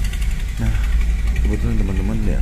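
Motorcycle engines idle in waiting road traffic, a steady low rumble that stays continuous and fairly close beneath a person talking throughout.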